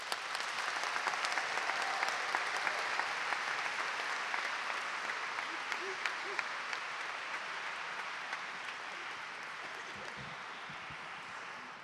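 Sustained applause fills a graduation ceremony hall for the class of 2019, a dense crowd of clapping hands holding loud and steady for about twelve seconds before tapering slightly at the end.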